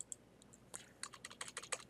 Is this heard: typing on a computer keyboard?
yes